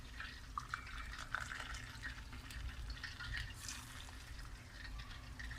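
Hot water pours from a glass onto sugar in a pan for malpuri syrup, a faint, soft trickling splash heard up close amid quiet kitchen background hum, without speech.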